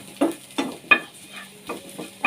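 Chopped garlic sautéed in a pan for white sauce macaroni: a handful of short, close scraping stirs spaced irregularly over a faint, steady sizzle.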